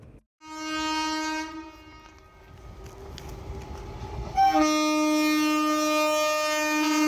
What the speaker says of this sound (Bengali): ঠিক সেই সময় লাইনের ওপর দিয়ে ট্রেন চলে যাওয়ার দৃশ্য